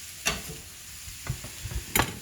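Garlic sizzling in the center of a pan while the cook stirs and scrapes, a low background fizz broken by several sharp utensil clacks and scrapes, close up with no speech.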